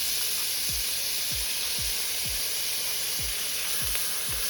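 Red onions sizzling in a hot pan with browned beef bits for a Peruvian cilantro beef stew, a steady loud frying hiss with soft repeated low thumps throughout, no voices.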